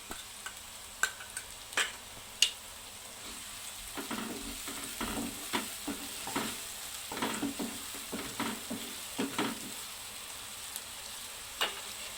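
Garlic and ginger paste fries in a pan while cooking palak paneer, sizzling steadily throughout with repeated light clicks and scrapes of stirring.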